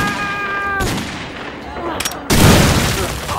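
Video game gunfire in a military training mission, a loud burst of bullets at the start, scattered shots, then a heavy volley of rapid fire at the end.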